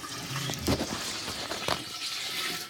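Water scooped from a bathtub is dumped into a clogged toilet, landing in one splashing, gurgling pour that churns for a couple of seconds before tailing off, close and fairly loud.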